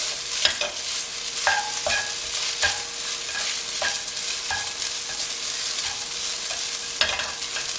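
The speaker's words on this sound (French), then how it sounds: "Là, vous mélangez tout de suite pour que la couleur répartisse bien." Sautéed rice is stirred in a pan over a steady frying sizzle, with repeated scraping strokes of a utensil landing roughly every half second to second, close and clear, without speech.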